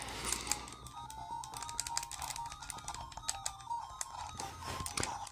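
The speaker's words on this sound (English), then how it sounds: "the combos are really cool with this little clicky stick" A Neo Geo Pocket Color's clicky stick and buttons being mashed in a fighting game, rapid dense plastic clicking in an uneven stream close to the mic, with faint game sound underneath.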